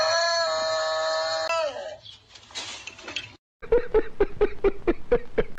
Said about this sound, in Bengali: এক ডাকে এই মুরগিটি হার্ট ফেল করলো।